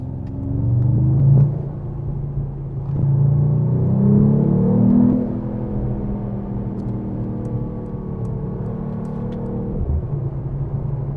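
A 2025 Mercedes AMG CLE 53 Cabriolet accelerates, its engine rumbling loudly from inside the cabin with rising pitch through gear changes, then easing to a steadier drone.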